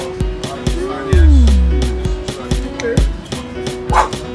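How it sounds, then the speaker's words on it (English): A dog yips and whimpers near a restaurant table, with repeated short sharp barks and a longer whine, alongside steady background noise and people talking. "Oh, this dog too."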